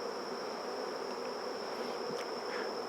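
Honeybees buzzing around an open hive colony, a steady dense drone of many wings with a constant whine, continuous and close, with no talk over it.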